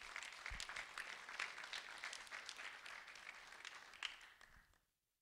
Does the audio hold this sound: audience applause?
yes